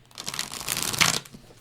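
A Sci-Fi Tarot deck being shuffled by hand, a short crisp riffle of card stock rising to a louder flutter before stopping, close up with no talking.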